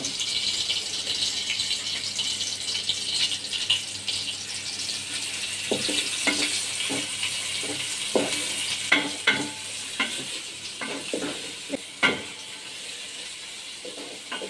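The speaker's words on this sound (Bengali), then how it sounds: "তেলের মধ্যে এখন আমি পেঁয়াজ কুচি দিয়ে" Chopped onions fry in hot oil in a pot while halim is being cooked, giving a continuous close sizzle with scattered scraping and stirring clicks and no talking.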